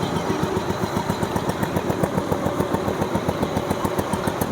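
A 2001 Royal Enfield Bullet motorcycle engine idles nearby with a steady, rapid thumping beat that holds even throughout.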